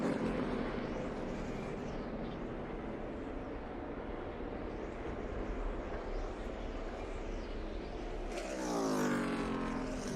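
A NASCAR race car at full speed on the Tricky Triangle track roars loudly and continuously amid crowd and broadcast noise, with a rising engine sweep near the end.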